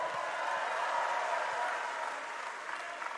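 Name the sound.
applause for Prabowo Subianto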